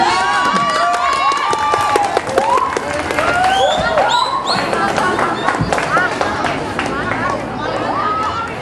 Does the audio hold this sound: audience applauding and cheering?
yes